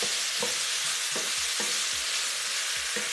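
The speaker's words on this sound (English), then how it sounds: "Mix everything together." A spoon stirs Ghanaian jollof sauce seasoned with white pepper in a pot, with about five scraping strokes at a steady rhythm over a constant close sizzle. No one speaks.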